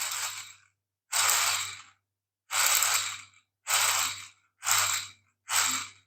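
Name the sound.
3D-printed MakerBot dynamo mechanism turning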